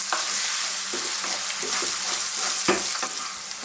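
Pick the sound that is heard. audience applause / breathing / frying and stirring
frying and stirring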